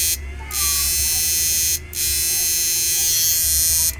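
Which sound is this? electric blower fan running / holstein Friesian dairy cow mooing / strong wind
electric blower fan running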